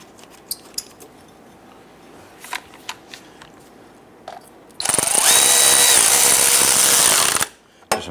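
A power tool runs bolts into an O2 sensor support bracket on a 2011–2021 Jeep Grand Cherokee 3.6L V6, with light clinks of handling before one loud sustained whirring burst of about three seconds, close up.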